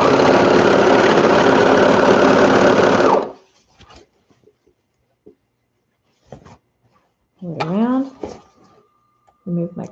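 A sewing machine stitching kids' board or swim shorts runs loud and steady for about three seconds, then stops abruptly, leaving scattered small handling clicks and brief bits of voice.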